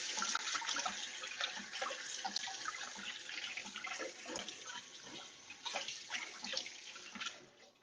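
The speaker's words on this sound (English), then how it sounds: "I'm gonna go rinse my fingers" Water runs steadily from a kitchen tap as chocolate-smeared fingers are rinsed beneath it, a continuous close splashing hiss with small irregular spatters and no talking.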